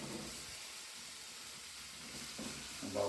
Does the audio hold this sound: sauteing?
yes